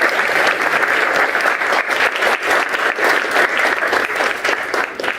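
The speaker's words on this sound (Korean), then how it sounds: "큰 박수가 쏟아졌습니다" An audience bursts into loud, dense applause after a conference presentation, a steady wash of many hands clapping together that continues without a break.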